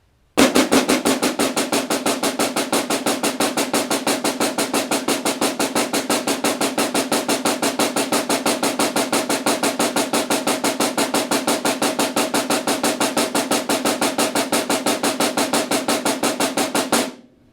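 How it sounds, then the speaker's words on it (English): Basic sixteenth-note pattern on a lone snare drum, no bass or hi-hat, struck in a steady, even, fast stream of crisp, evenly loud strokes that run unbroken for about seventeen seconds and then stop. "If I was to play just this pattern with just the snare drum, without the bass, without the hi-hat"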